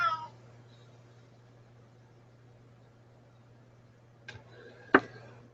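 A house cat meows faintly at the start and again near the end, short distant calls over a steady electrical hum, with a soft click just before the last meow.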